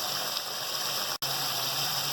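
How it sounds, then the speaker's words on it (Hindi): Water poured into cooked curry masala for potato and egg curry gravy, a steady close gush and sizzle with a brief break midway, no talk. "और फिर मैं शोरबे के लिए पानी डाल दूँगी।"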